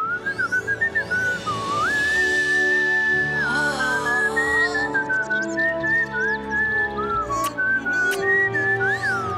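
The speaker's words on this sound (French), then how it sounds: "Peut-être que moi je pourrais t'apprendre à siffler." Someone whistles a wandering melodic tune, close and clear, with sliding pitch changes and brief pauses over a soft musical backing.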